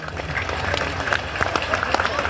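Scattered audience clapping at a large religious gathering, a crowd applauding in uneven bursts, moderately loud with a murmur of voices underneath.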